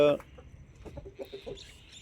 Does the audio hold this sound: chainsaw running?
no